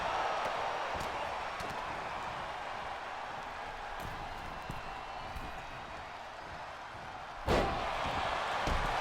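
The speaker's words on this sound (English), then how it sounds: "as he gets power slammed to the mat." Power slam of a wrestler onto the mat during a WrestleMania XIII tag-team match, a single sharp loud thud standing out near the end over a constant arena crowd roar.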